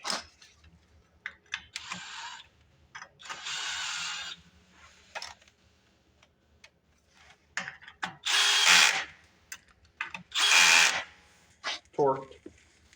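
A power tool tightens a bolt on a Lincoln Lincwelder 225 welder in a few short, loud whirring bursts between quieter clicks and handling noises.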